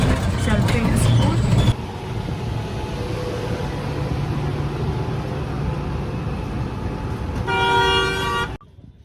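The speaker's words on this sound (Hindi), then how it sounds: "आज रिक्शे से जा रहे हैं, रिक्शे से ही आएंगे, इसी रिक्शे में वापस आएंगे।" From a rickshaw riding through busy street traffic, a steady roar of engines and road noise fills the scene, horns honk near the start and end, and voices are heard in the background.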